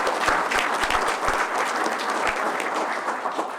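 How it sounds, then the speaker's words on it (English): Crowd applause at a tribal council meeting, dense steady clapping with a few sharp, close individual claps standing out, holding at even loudness throughout. "Let's give them all a big round of applause."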